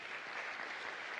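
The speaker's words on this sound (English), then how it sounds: "Let's give them a round of applause." Conference audience applauding at the opening ceremony of an African philanthropy gathering, a steady wash of many hands clapping at moderate distance through the brief moment, with no voices over it.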